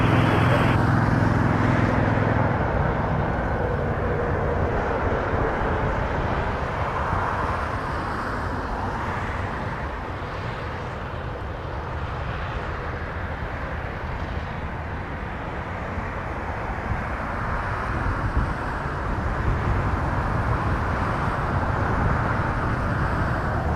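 Airliner taking off from runway 23 at Toronto Pearson airport, a loud, sustained broadband engine roar that continues throughout with slow swells in level.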